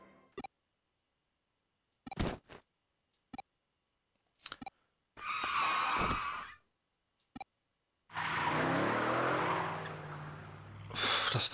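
A truck nearly runs characters down in the Digimon Story: Cyber Sleuth video game, with a loud sustained engine roar and rumble around the middle and end, broken by short sharp game effects and gasps with silent gaps between.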